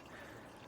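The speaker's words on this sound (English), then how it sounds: "I thought it'd be a good idea to put some of this treatment in the pond as well, just to treat the water a little bit" Pond water treatment glugging from a bottle into a garden pond of about 3,000 litres, a steady close pour lasting under a second with no talk.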